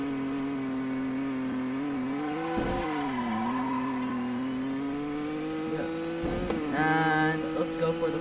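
A car in the Project Trackday racing game does donuts. The engine drones at a steady pitch, dipping and rising in two brief swells, and a short high tire squeal comes near the end.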